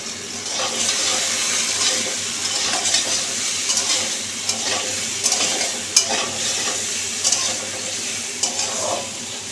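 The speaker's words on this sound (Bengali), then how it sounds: "চলো একটু নাড়াচাড়া দিয়ে" Food being stirred in a pan with a little turmeric added, a steady close sizzle broken by repeated scraping and clicking strokes of the spoon over about ten seconds, with no talking.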